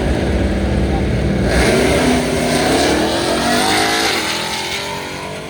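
A Ram TRX pickup truck's engine revs up and accelerates close by, its pitch climbing steadily before the roar tapers off as it pulls away.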